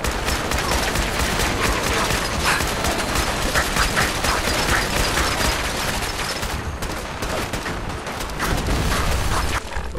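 Sustained gunfire in the video game Fallout 4, dense and continuous, with rapid shots and explosive bursts packed together at a steady loud level with no pauses.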